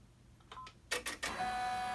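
Embroidery machine stitching a bean stitch on an in-the-hoop double zipper bag: a few quick mechanical bursts and taps, then a steady close whirring run of rapid stitching.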